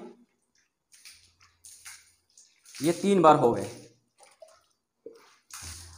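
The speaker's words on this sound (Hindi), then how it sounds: "तीन बार आपको बाएं कंधे पे पानी बहाना है देखिए पूरे अच्छे से बहा लें" Water poured over the body in short splashing bursts during a ritual bath, close by, with one louder, longer pour in the middle; someone speaks briefly between the pours.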